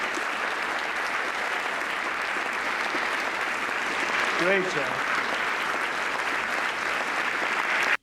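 Audience applause fills the room at the White House Correspondents' Dinner, a steady dense clapping from a large crowd that runs throughout, with a brief spoken voice heard over it midway.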